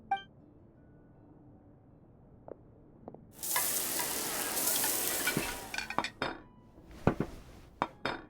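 Cooking in the Genshin Impact video game: a quiet opening with a few small clinks, then a loud burst of frying and sizzling, followed by sharp clatters of pots, dishes and utensils.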